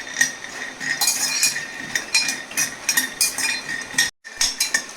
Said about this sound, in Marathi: हे शेंगदाणे आपण छानपैकी रोस्ट करून घ्यायचे मिडियम गॅसवरती